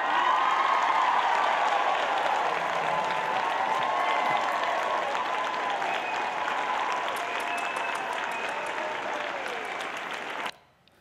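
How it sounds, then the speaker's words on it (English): After a Bible teacher's rap performance, an audience breaks into full, sustained applause: thick, even clapping that holds strong for about ten seconds before cutting off abruptly. "Go ahead, you can clap."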